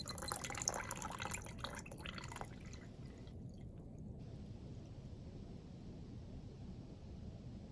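Water trickling and dripping through a groundwater lab model, a busier patter for the first couple of seconds that settles into a steady, faint, continuous trickle and hiss.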